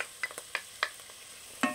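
Chopped onion and garlic are stirred in a pan of hot olive oil, a faint sizzle broken by several short scraping stir strokes, with no talk.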